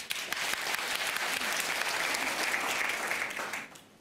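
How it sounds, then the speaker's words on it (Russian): A hall audience breaks into sustained, dense applause, an even roar of many hands that holds steady and then fades out toward the end. "можно не перебивать меня аплодисментами"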